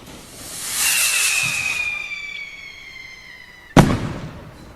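A large firework costing about $500 whooshes and hisses as it launches, a rising shriek trailing off, then a single sharp loud bang of the burst, with no talk.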